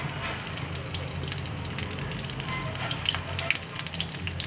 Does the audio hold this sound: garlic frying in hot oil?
yes